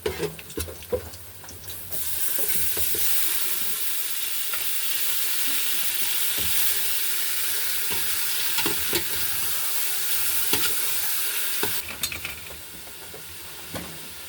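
Chicken meat sizzles steadily in a hot pan with garlic, a continuous loud frying hiss broken by occasional stirring scrapes and clatter at the start and end.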